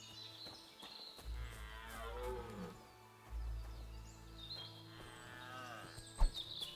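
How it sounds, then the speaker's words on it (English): A horse stands in an abandoned stall in Kingdom Come Deliverance II and gives two drawn-out, low, wavering calls a few seconds apart. The calls are fairly close over quiet ambient game sound. "I kind of want to just let that horse go free."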